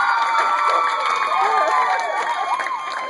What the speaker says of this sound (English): how about a round of applause for the lovely contestant number 1?